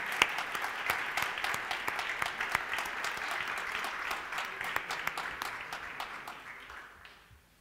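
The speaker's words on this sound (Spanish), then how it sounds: "Un fuerte aplauso para el Señor." Steady applause from a church congregation after a sermon, with sharp individual claps standing out over the dense clapping before it fades away near the end.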